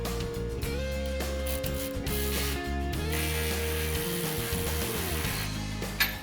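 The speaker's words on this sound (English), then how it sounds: "Now bring our AccuSeal clamp to the edge of our flange pipe, snug it down." A ratchet snugs down an exhaust clamp on a Ford F-150 flange pipe, with close, steady clicking of the pawl over a sustained mechanical tone, with no talking.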